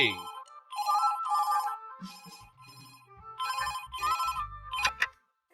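A telephone rings with a melodic electronic ringtone in short repeated bursts, loud and close, before cutting off into silence at the end.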